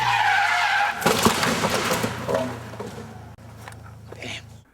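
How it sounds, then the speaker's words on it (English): A Honda Civic drifts through a neighborhood and loses control, its tires skidding in a loud, harsh screech that rises and fades over several seconds, with a rough engine rumble underneath. "they were drifting their Civic in a neighborhood and lost control and smashed into a fence"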